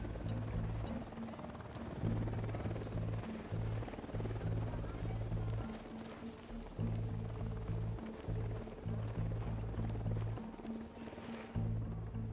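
An Unidad patrol helicopter flying nearby in the video game Ghost Recon Wildlands, its rotor giving a loud, steady low thumping pulse that briefly drops out a few times, with voices talking over it.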